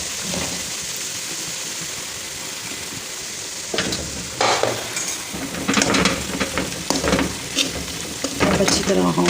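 Churi fries in hot melted desi ghee as a spoon scrapes and stirs it around the pan, giving a steady sizzle broken by louder bursts of clattering and scraping in the second half, close up with no talking.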